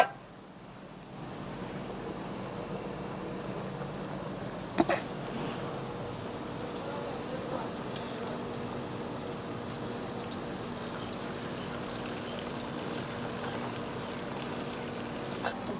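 Rice water poured off a pot of freshly boiled rice while making dal chawal, a steady broadband rushing stream that holds continuously at moderate level with a faint clink near the start.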